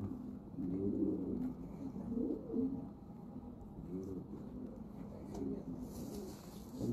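Breeder pigeons cooing in a loft, low throaty coos repeating in overlapping bursts at close range, with soft background rustle and no talk.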